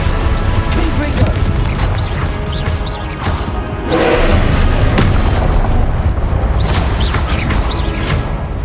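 Confringo explosive curse from Hogwarts Legacy, heavy booming blasts and crashes in loud, dense game combat, a stronger explosion swelling midway with further impacts following.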